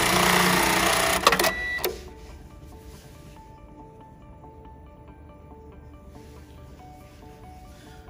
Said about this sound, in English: now we're gonna go ahead and sew on this very tight weaved webbing here